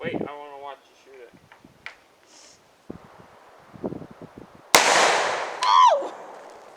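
Gun fired outdoors while preparing for Alaskan grizzly bear encounters: one sharp, loud close-range blast cracks out and rings off into a decaying tail, with people talking and chatter both before and after the shot.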